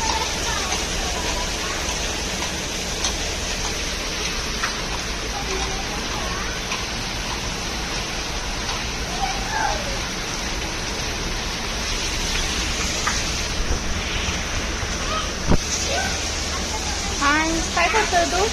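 Summer rain falling steadily near fields with standing water, a continuous loud hiss of drops with occasional splashes, alone without talking.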